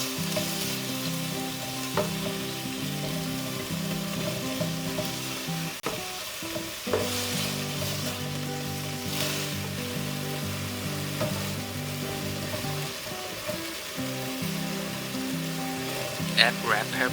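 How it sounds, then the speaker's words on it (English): Steady sizzling of chicken breast stir-frying in a hot pan, with occasional scraping stirs and a voice talking over it. "Stir fry the chicken until they are half cooked."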